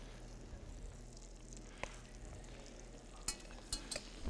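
Lobster basting in sizzling butter in a pan, a soft steady frying hiss with a few sharp spoon-on-pan clinks near the end, heard alone.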